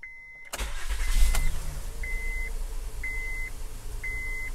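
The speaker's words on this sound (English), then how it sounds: "We're gonna start the engine." A Honda Pilot engine cranks and catches after an alternator replacement, then settles into a steady idle while a short electronic beep repeats about once a second.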